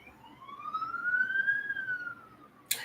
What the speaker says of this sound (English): Waiting for the sirens to pass.